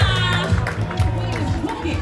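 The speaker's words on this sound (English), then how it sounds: "Round of applause, everyone." Audience applause and cheering at a youth fashion show in South Auckland, a steady crowd roar with claps under a loud voice and low music.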